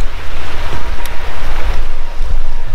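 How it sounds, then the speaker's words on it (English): Strong outdoor wind buffeting a microphone on a gold claim while panning, a loud irregular low rumble that gusts and surges without pause, with no speech. "it is really windy and my mic is terrible"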